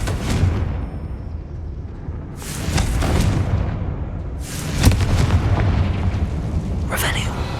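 Confringo fire-blast spell detonating in Hogwarts Legacy inside an abandoned mine, several heavy booming blasts spaced a few seconds apart with rumbling tails, game ambience between.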